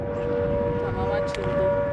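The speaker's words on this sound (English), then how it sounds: "Fighter jets at a British base in Cyprus scramble as a siren sounds the alarm" Alarm siren wailing at a British RAF air base in Cyprus as fighter jets scramble, a steady sustained tone held throughout over busy background noise.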